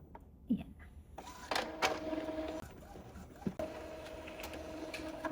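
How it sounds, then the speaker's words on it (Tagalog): An Epson EcoTank 2800 inkjet printer prints an alignment page, giving faint mechanical clicks, soft clunks and a low feed hum in a quiet room, with a voice now and then. "So we can press this one to print."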